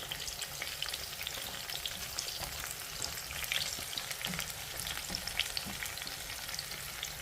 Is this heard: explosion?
no